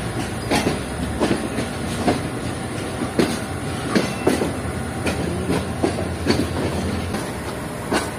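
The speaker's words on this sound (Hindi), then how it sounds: "हमारी ट्रेन प्लेटफॉर्म नंबर 5 की तरफ बढ़ रही है।" Passenger train headed by a ZCU-20 locomotive rolling toward a platform at a Karachi station, with steady rail rumble and regular clickety-clack wheel beats at an even rhythm, close and loud, with no talk.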